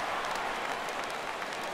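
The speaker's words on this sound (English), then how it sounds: "Crowd gets up for the 3-2." A stadium crowd in the baseball video game MLB The Show 17 cheers on a full 3-2 count, a steady wash of applause and roaring voices at moderate volume without any breaks.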